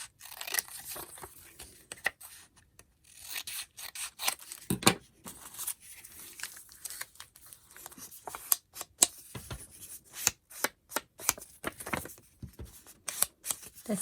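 Scissors snip through paper being trimmed for a fairy journal, a close series of crisp, irregular cuts separated by quiet pauses, with faint rustling of paper between them.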